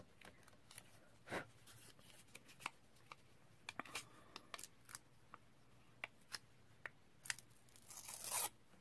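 Scissors snip and rustle through a paper mask, trimming closely around a small bee crown stamp design: irregular crisp cuts and paper crinkles spread across the clip, close and fairly quiet, building to a louder rustle near the end, with no speech.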